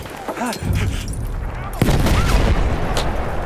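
Grenade blast and gunfire in Battlefield 1 on Xbox, a loud close boom partway through amid continuous rumbling battle noise and shouted voices.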